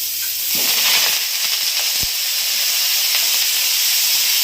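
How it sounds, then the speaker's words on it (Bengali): Ripe red chilies drop into hot oil and hiss loudly, a bright, steady sizzle with a few crackles and spatters, close and unbroken throughout. "লঙ্কাতে যে পাকা লঙ্কা নিয়েছিলাম দিলাম তেলে"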